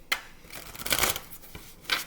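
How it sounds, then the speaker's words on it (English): Tarot cards shuffled by hand in a few quick riffling bursts, close and crisp in a quiet room with no talking. "Now, I shuffle and cleanse these after every signs reading"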